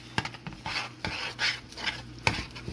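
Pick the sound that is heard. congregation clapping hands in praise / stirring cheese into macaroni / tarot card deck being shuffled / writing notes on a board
stirring cheese into macaroni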